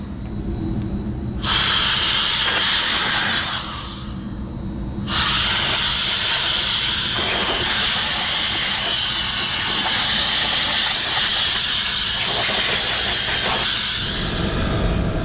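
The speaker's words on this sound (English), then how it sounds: "And I got this little mini blower." A small handheld mini blower pushes a loud, steady rush of air through a York rooftop HVAC unit with a frozen evaporator. It comes in long continuous bursts with brief pauses between them and sounds close.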